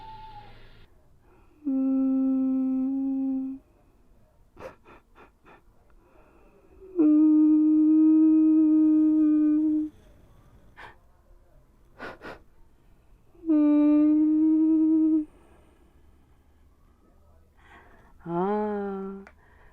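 A voice hums several long, wavering, mournful notes, separated by breathy pauses and clicks, imitating an eerie tune.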